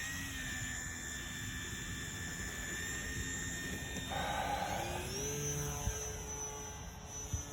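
An E-flite Air Tractor 1.5 m RC model airplane whines at a steady pitch, then its electric motor note rises as it throttles up for takeoff, fairly faint against outdoor background noise.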